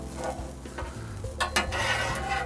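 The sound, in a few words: grilled cheese sizzling and moved on a flat top grill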